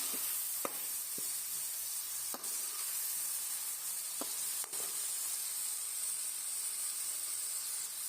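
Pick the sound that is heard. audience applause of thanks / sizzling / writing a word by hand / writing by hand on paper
sizzling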